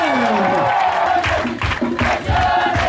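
A church congregation at a Sunday service acclaims and cheers together, a dense swell of crowd voices and whoops with a voice leading over them, sustained and close throughout.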